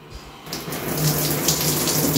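Water pours steadily from a rain shower head at a house in Jamaica, a loud, continuous close splashing that surges after a brief quieter start.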